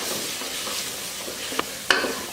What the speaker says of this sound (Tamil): மசாலா இது போல் எண்ணெயில் வதக்கி விட்டுட்டு தலைக்கறியை இதில் சேர்த்துறேன்.